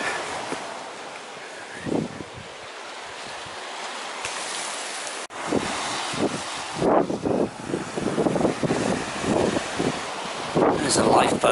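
Wind gusts across the microphone on a coastal walk near Nefyn, making a steady low rumble with buffeting bursts that grow stronger toward the end.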